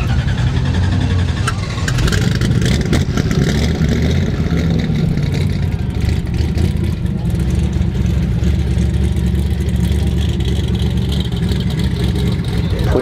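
A modified BMW Z4 at a street car meet gives a loud, continuous engine roar with revving and rumbling, heavy low end throughout, amid crowd noise and possible voices.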